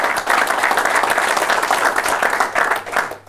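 A studio audience at a local business talk show in Venray gives a guest a loud, sustained round of applause, dense clapping filling the room and tapering slightly at the end.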